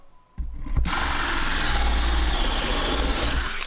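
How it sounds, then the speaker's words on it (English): A hole saw on a hand-held motor bites into wood. A brief low hum is followed by a loud, continuous grinding roar that holds steady and close for several seconds. "now I got this big plug of wood stuck in my hole saw"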